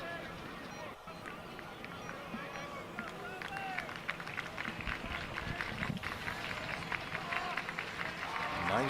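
Baseball game crowd at Berwick Panthers vs Jena Giants, a steady murmur of many voices and scattered cheers under close play-by-play commentary.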